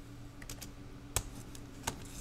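Keystrokes on a computer keyboard while modeling in SketchUp: a few soft scattered taps, then two sharper isolated clicks, likely the Enter key, against a quiet low hum.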